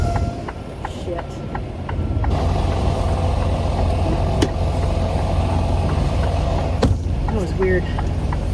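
Steady low rumble of a semi truck engine as the rig rolls forward, continuous and loud, with someone talking over it and a few faint clicks.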